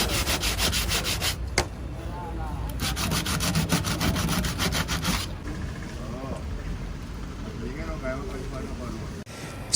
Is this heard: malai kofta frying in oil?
no